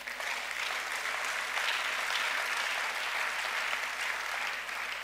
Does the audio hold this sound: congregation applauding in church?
yes